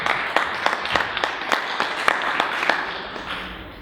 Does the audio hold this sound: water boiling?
no